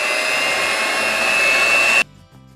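Electric hand mixer beating oil, vanilla and sugar for banana bread, a loud steady motor whine that runs evenly for about two seconds and then cuts off abruptly, leaving quiet room sound.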